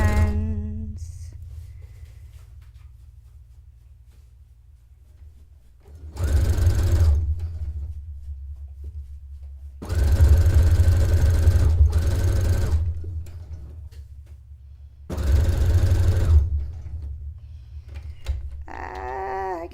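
A sewing machine stitches a dress in three bursts of steady mechanical whirring, each a few seconds long, separated by quiet pauses with faint handling sounds.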